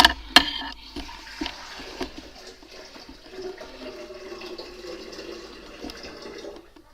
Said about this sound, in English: Let's start off with a couple of cups of water in your blender.